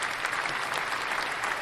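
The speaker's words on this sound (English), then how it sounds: "I'm just going to keep waiting on the applause here" A political rally crowd claps steadily in dense, even applause that carries on without a break for the whole stretch.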